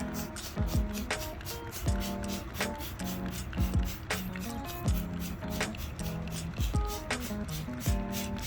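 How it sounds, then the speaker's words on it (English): Degreaser is sprayed onto a car surface during a detailing job, with repeated short trigger-spray bursts in an uneven rhythm, fairly close, alongside light handling noises. "I'm just gonna go ahead and start pre-treating with my degreaser"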